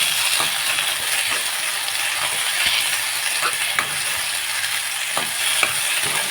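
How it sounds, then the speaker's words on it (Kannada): Soaked fenugreek seeds fry in a hot pan with a constant crackling sizzle, broken by occasional scraping taps as a spoon stirs them, close and steady with no talk. "ಸೊ ನೆನೆಸಿದ ಏನಂತೀರಿ, ಮೆಂತೆ ಕಾಳನ್ನು ಹಾಕ್ಕೊಂಡು ಚೆನ್ನಾಗಿ ಫ್ರೈ ಮಾಡ್ಕೊಳ್ತೇನೆ."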